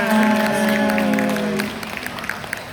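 Brief audience applause fills the room after a tribute to a musician at a mall event, starting under a held musical tone and thinning to scattered claps within about three seconds.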